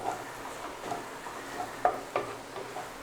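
A spoon scrapes and stirs beef curry masala in a pan, with soft rhythmic scraping and a few sharper clinks against the metal over a faint background hiss.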